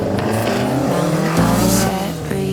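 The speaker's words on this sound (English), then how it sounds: "I want to see you drifting that around." A modified car drifting at a drift event, with a loud, close engine roar and sustained, wavering tire squeal as it slides.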